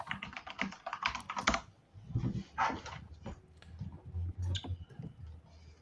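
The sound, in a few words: typing on mechanical keyboards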